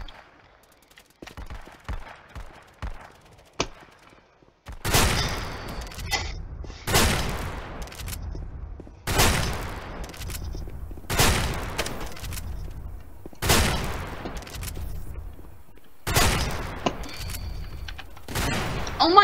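Guns fire in the Roblox game Gun Testing: a few faint clicks and light taps come first, then loud, sharp bursts of rapid gunfire repeat in roughly regular volleys with short pauses between them.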